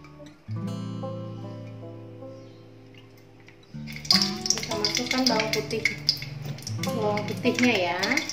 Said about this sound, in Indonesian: dengan minyak sedikit saja untuk menumis bawang putihnya.